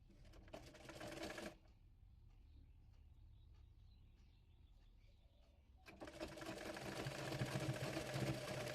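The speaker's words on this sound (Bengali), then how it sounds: "এবার উল্টো দিকে কাপড়টি মুড়িয়ে সেলাই করে নেব।" A sewing machine stitches the folded fabric of a baby frock in a close, rapid mechanical rattle, stopping for a few seconds of quiet handling before running steadily again, with no voices.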